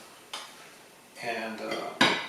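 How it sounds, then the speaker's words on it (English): Vegetables set down onto a plate during the serving of Indonesian gado gado, with a few short clinks and scrapes of dishware and utensils close by, the last one sharper and louder. "I'm going to put the vegetables on a plate right now"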